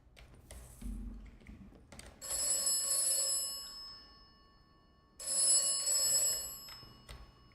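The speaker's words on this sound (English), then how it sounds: "The phone." Telephone ringing in the video game Atomfall, with two long bell-like rings separated by a pause and quieter game sounds around them. No voices.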